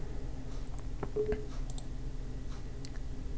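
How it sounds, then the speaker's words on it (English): A computer mouse clicks a couple of times near the middle, quick faint taps over a steady low room hum, with no speech. "So then you click on run"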